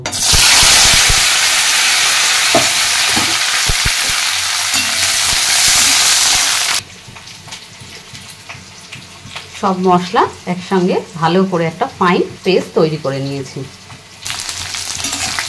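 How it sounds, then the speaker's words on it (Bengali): Capsicum and pointed gourd fry in mustard oil in a wok with a loud, continuous sizzle for several seconds, then the scene shifts to a quieter moment where someone speaks over faint kitchen background before sizzling briefly returns. "এবার এই তেলের মধ্যে আমি ক্যাপসিকাম আর পটল ভেজে নেব।"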